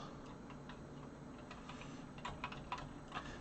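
Keys pressed on a BBC Micro Model B home computer keyboard, producing a light scatter of clicks that thickens into a few sharper, closer taps toward the end, over a steady background hum.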